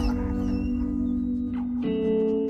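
A dog whimpers in high, thin whines over a steady low hum and background music, sustained through the short stretch with a shift in pitch near the end.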